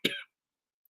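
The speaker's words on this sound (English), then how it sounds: "still got my cough from my cold." A single short, sharp cough from a man with a lingering cold, close and clear, followed by silence.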